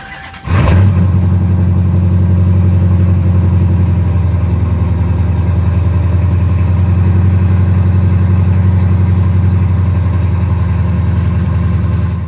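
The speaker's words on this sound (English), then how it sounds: "that's how the Challenger sounded on startup" A Dodge Challenger engine cranks and fires with a sharp burst, then settles into a loud, deep, steady idle with a throbbing low rumble that continues to the end, no voices.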